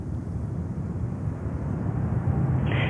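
A jet airliner rolls for takeoff on runway 13 right at JFK Airport in New York, a steady broad engine roar that holds loud and alone throughout.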